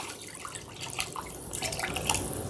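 Water pours from a can and drips steadily into a pot of chicken and dumplings, a splashy liquid trickle at close range with no talking.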